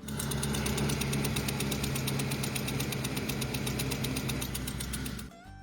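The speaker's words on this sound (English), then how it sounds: "Knocking sounds from engine." A car engine with a knocking fault idles with a rapid, steady metallic ticking over a low rumble that continues evenly before cutting off near the end.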